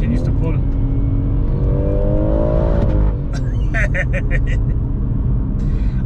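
A stage 2 tuned BMW M140i accelerating hard as a loud, rising engine roar pulls through a gear, then a brief dip and several sharp pops and crackles from the exhaust, heard from inside the car.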